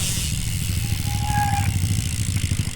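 A motorcycle engine runs steadily up close, a continuous throbbing rumble with a slight rise partway through.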